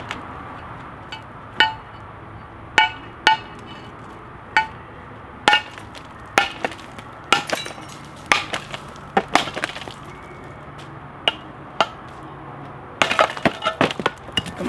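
A Schrade SCHF43 knife is struck over and over in a destruction test, each blow a sharp, ringing metallic crack. The blows are close and irregularly spaced, with a rapid cluster near the end, and there is no talking.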